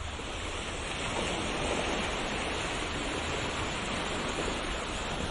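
Sea waves wash continuously in a dense, even roar of surf with a steady hiss and no pauses or voices.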